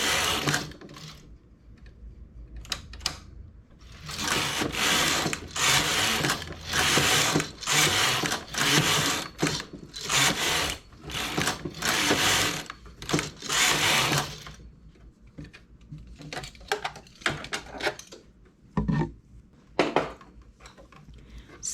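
A knitting machine carriage runs back and forth across the needle bed knitting plain stockinette rows for a hem, a loud repeated mechanical whirring rattle in bursts, followed by quieter clicks and handling.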